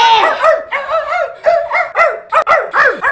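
A person imitates a barking 11-year-old Portuguese water dog, giving a loud, close series of about eight voiced yips and barks in an uneven rhythm.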